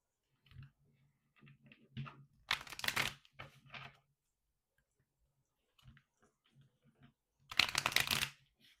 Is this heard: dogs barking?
no